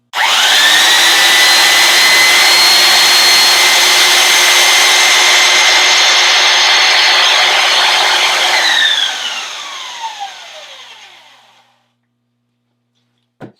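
A belt sander runs with a steady, loud, even whine for about nine seconds, then is switched off and winds down over a few seconds into silence. A small click follows at the very end.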